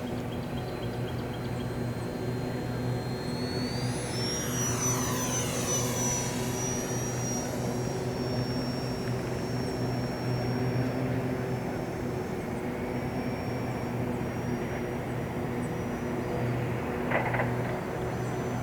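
An E-flite UMX Viper EDF model jet flies by with its whining electric ducted fan. The high-pitched tone bends sharply downward as it passes near, then settles into a steady distant whine over constant background hum.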